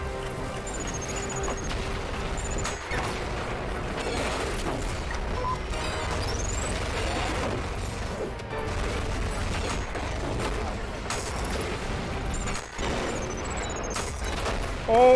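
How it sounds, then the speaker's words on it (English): Explosions and gunfire in a violent first-person shooter game, a busy mix of booms, mechanical clatter and sharp tonal effects layered over a steady rumble, continuous and moderately loud. "Whole lot of explosions going on up in this heezy"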